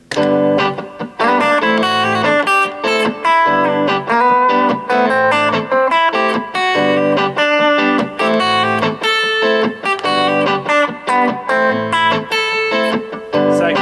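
Guitar playing first-inversion triads, weaving chord tones with passing tones in a continuous, steady run of plucked notes with a slightly effected tone, loud and alone without talk.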